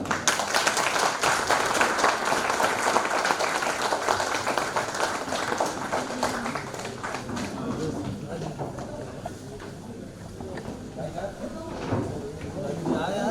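A crowd applauds at a ceremony welcoming a minister with flower bouquets, a steady wash of clapping running through most of the stretch beneath ongoing amplified speech.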